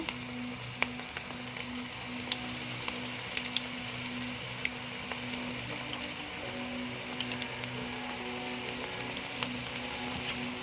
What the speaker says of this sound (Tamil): இப்போ நம்ம பொரிக்கலாம்.